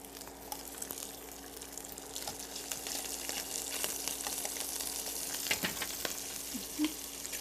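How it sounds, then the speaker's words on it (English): Oil sizzling in a hot, smoking pan on a live cooking show, giving a soft steady crackle and hiss with a few sharper pops near the end, fairly quiet and without talk. "I can hear a sizzle."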